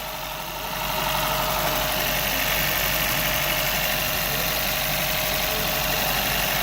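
Idling 1.5-liter turbocharged hybrid engine of a 2019 Honda Insight Touring, a steady mid-pitched hum with faint vibration that settles in after the first second and holds evenly, with no talking.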